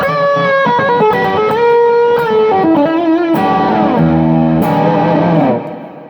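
An electric guitar played through a Fender Machete 50 watt amp head rings out loud and distorted, with sliding bends and sustained chords that fade out at the end.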